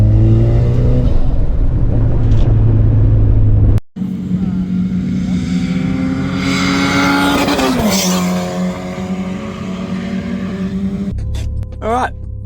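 A cheap turbocharged sleeper car being driven hard around a race track on its first track day, with a loud, close engine droning and rising through the revs, a brief cut-out, then more strained acceleration and shifts; speech registers faintly beneath.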